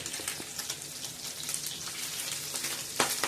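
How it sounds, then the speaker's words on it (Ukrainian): Zasmazhka frying in a pan for mamaliga, a quiet steady sizzle and crackle with scattered small pops throughout, close by and without talk. "готуємо засмажечку. Хочемо, щоб воно і не згоріло, і гарно підзолотилося, правда?"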